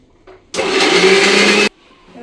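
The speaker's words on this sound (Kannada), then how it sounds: "ಅಚ್ಚ ಖಾರದ ಪುಡಿ ಮತ್ತು ಧನಿಯಾ ಪುಡಿನ ಮಿಕ್ಸ್ ಮಾಡಿ ಹಾಕಿ ಕ್ಲೀನಾಗಿ ರುಬ್ಕೋಬೇಕು" A kitchen mixer grinder blending chili powder and coriander powder into a paste, one loud, steady whirring burst of about a second, with quiet before and after.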